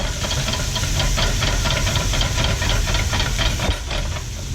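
Vegetables sweating in a pan make a continuous loud hiss and sizzle with a faint rhythmic crackle throughout, alone with no talking.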